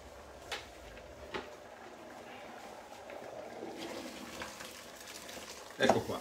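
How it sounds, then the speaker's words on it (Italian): Tap water pours into a cooking pot being filled for boiling pasta, a fairly faint, steady rushing that grows fuller toward the end. "c'è tanta acqua, ragazzi, che la pasta si fa con acqua abbondante"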